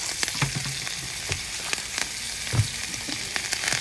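Butter and onion sizzle in a hot frying pan during a cooking class, a steady crackling fry with a few louder pops and spatters, heard close and alone.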